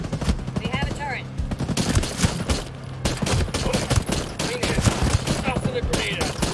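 Enemy turret machine gun fire in the video game Ghost Recon Breakpoint, sustained rapid bursts of gunfire running loud and continuous throughout, with brief voices cutting in over the shooting.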